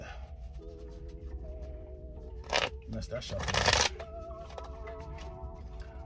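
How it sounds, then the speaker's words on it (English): Tarot cards riffled in a couple of quick bursts inside a semi-truck cab while it is loaded at a dock, with a person talking over a steady low engine rumble. "Can't shuffle today, Sagittarius."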